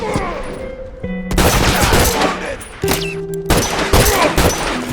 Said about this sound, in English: Next up is a semi-auto rifle.